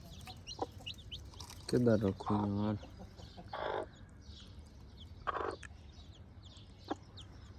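Hen clucking in short bursts near a backyard coop, with a few louder squawks mid-clip, under and between a man's speech.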